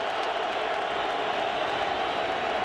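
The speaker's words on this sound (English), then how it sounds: "Crowd making a lot of noise" Loud, dense roar of a football stadium crowd during a Nevada versus Fresno State college game, a steady wash of cheering and yelling with no gaps.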